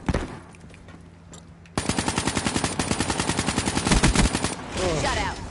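Automatic weapon fire in the Black Ops 3 multiplayer beta: a loud, rapid burst of rounds lasting a few seconds, followed by more game sounds.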